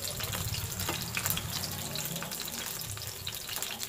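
Garlic fries in a pan over low heat, giving a steady, close hiss and crackle that carries through without pause and with no talk.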